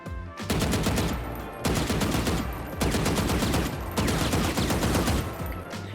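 Automatic gunfire in the Valorant video game, hip firing while shift walking: four long, loud sustained bursts of rapid shots separated by brief gaps, close and dominant, with no speech.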